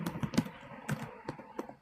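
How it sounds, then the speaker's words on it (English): Fingers typing on a computer keyboard nearby, a run of crisp, uneven key clicks and taps spaced irregularly with short pauses between bursts. "I'm typing on my computer"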